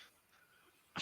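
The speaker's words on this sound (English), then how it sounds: "Okay, I heard a dog that time." A dog whimpers in a hallway, a faint, thin whine lasting under a second before a sudden loud noise cuts in at the end.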